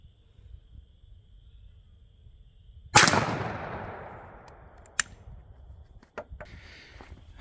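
A Stevens 301 Turkey .410 gauge shotgun fires a Federal 9-shot load outdoors: one sharp, loud blast with a long rolling decay, followed by faint clicks and handling noises.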